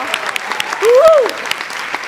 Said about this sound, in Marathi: क्या बात है, जोरदार टाळ्या.